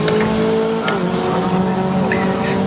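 Race cars at Snetterton circuit roar loudly and continuously as they battle toward a corner, engines droning with shifting pitch and brief tire squeal, close and dense without pause.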